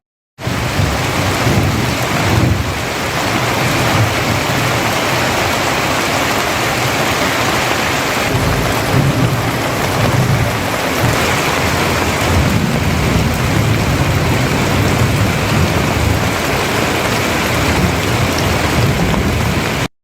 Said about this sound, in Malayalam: ഇടിമിന്നലോടുകൂടി മഴയ്ക്ക് സാധ്യതയുണ്ടെന്നും കേന്ദ്ര കാലാവസ്ഥാ വകുപ്പ് അറിയിച്ചു